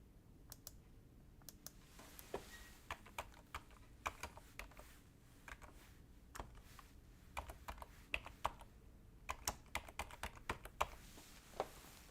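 Steady typing on a computer keyboard: a fairly quiet run of irregular keystroke clicks, some in quick bursts and others spaced apart, with no voices.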